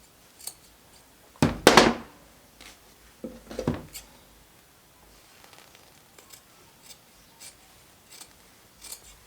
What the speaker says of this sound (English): I'm really just using the tip of my scissors and cutting it